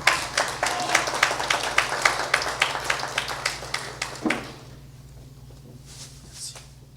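An audience at a law fair launch claps for a sponsor's representative, with a few distinct claps ringing out clearly and steadily, then tapering off into near-silence.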